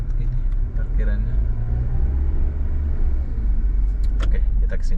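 Cars idling and creeping through a crowded, jammed parking lot near luxury apartment blocks, a steady low engine rumble throughout with a few brief higher clicks and squeaks near the end, while a person talks over it.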